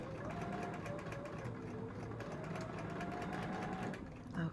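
A sewing machine slowly stitches pieces of a puzzle quilt, a quiet, steady mechanical whir with a faint rhythmic tick and a slight clunk at the end.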